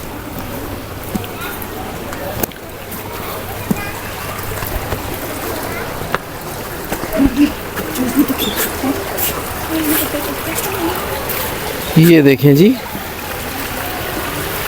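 Water flows through the channels of the historic Fin Garden in Kashan, Iran, as a steady broadband rush beneath someone talking, with pigeons cooing and occasional clicks.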